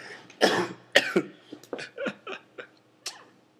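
A short run of close, sharp coughs and throat-clearing bursts, irregularly spaced, with a few softer follow-up hacks.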